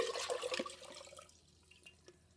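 Water pours from a fishbowl into a watering can, a splashing gurgle that is loud at first and tapers off to a few faint drips.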